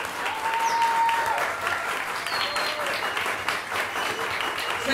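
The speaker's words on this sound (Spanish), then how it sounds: "aplauso, por favor" Sustained audience applause at a live concert, a thick, continuous patter of clapping with a few faint whistles and cheers rising above it.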